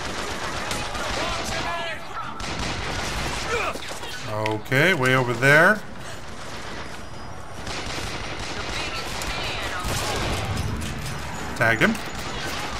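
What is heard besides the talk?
gunfire from the video game Bioshock Infinite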